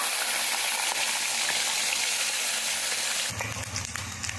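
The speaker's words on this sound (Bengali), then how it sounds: "লাল লাল করে ভেজে নেব।" Pieces of sal fish fry in hot oil, a loud, steady crackling sizzle close by that turns slightly rougher near the end, with a low hum joining in and no talking.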